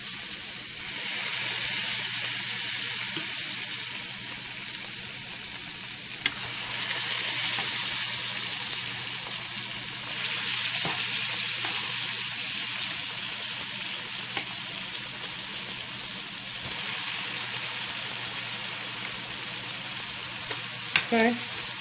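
Chicken tenderloins sizzle and fry steadily in melted butter and oil, a broad continuous hiss filling the clip with occasional stirring scrapes, close and fairly loud with no talking.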